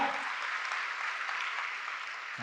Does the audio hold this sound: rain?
no